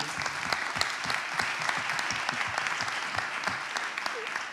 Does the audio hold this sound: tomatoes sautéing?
no